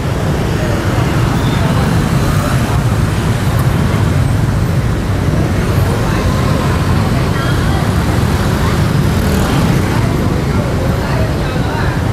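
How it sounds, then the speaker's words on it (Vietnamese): Heavy road traffic crawling in a jam between Ngã Sáu and Ngã Tư Bãi Hiền produces a steady, dense roar of engines that runs unbroken and loud throughout, with faint voices mixed into the noise. "kẹt xe từ ngã sáu lên tới trên ngã tư bãi hiền luôn đó"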